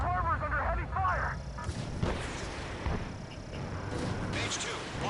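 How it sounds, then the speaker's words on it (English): Heavy fire pounds a harbor in the video game Ace Combat 7, with dense rumbling explosions and bursts of gunfire under radio chatter. "The harbor's under heavy fire."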